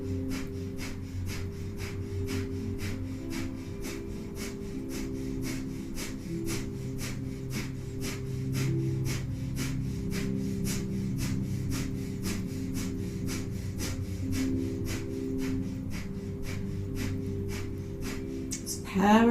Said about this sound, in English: panting like a dog through the nose.